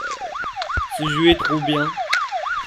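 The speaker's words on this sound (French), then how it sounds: "Je vais éteindre la sirène, ça va." Siren in the zombie video game Withstandz, a loud fast wail sweeping up and down in quick repeating cycles, with someone talking over it.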